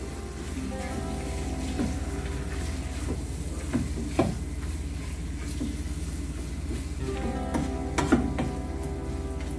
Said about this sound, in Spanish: Todo esto lo volvemos a mezclar.